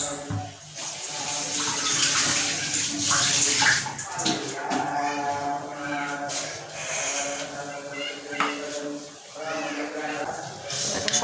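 Ingredients are rinsed under running tap water in a kitchen, with splashing and gurgling that rise and fall over eleven seconds, while someone talks over it.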